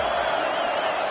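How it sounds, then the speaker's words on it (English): Home crowd at a football game cheering in a big stadium, a sustained, loud wash of roaring voices with no breaks, heard at a distance. "this home crowd is fired up and ready to make a difference today"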